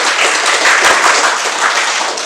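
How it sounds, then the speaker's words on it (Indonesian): Applause from the audience at a regency-level Islamic education quiz competition in Tasikmalaya, a short burst of dense, loud clapping filling the room at an even level. "Kita berikan tepuk tangan."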